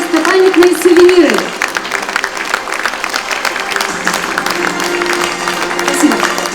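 Concert audience applause, clapping rising and falling as a sustained patter, with a voice over it at first and a tonal sound underneath.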